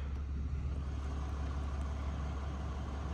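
A 2023 RAM 3500 pickup rolls forward with a steady low engine rumble and a broadband drone heard from inside the cab, unchanging and with no talk.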